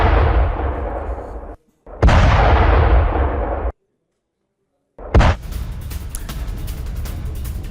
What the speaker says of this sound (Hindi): वॉर जोन से रूसी तोपों से गोलों की बौछार की गई है।